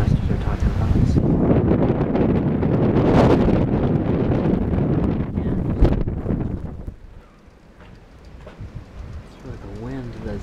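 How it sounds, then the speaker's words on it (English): Strong wind roars and buffets a microphone outdoors at night in a Chicago blizzard, loud and gusty throughout before easing slightly, with a person talking over it. "The wind is what's so surprising."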